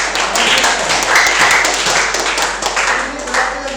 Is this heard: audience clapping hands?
yes